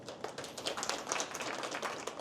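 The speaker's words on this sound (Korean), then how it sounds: "박수 부탁드립니다" An audience at a seminar on startups and the government market claps, a brief dense patter of many hands heard fairly quietly, with no talk over it.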